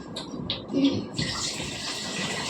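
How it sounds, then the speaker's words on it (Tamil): Water poured into a pan of spicy chickpea curry during home cooking, a steady gushing pour that follows a few brief clinks and then runs continuously, close and fairly loud. "அதுக்கு தேவையான அளவு இப்போ தண்ணி கொடுக்கும்"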